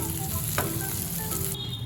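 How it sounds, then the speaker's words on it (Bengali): Boiled potato pieces fry in oil, a continuous bright sizzle with light crackles and an occasional clink of a utensil, close but moderately quiet, with no voices. "সেদ্ধ আলুর টুকরোগুলো আমি দেখুন খুব ভালো করে ভেজে নিলাম"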